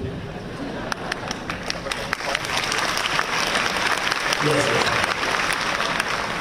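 A university audience claps, a few scattered claps quickly growing into steady, moderately loud applause, with a brief spoken word heard over it.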